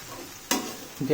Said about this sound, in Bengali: হালকা হালকা ব্রাউন কালার অবধি আমাকে ভেজে নিতে হবে।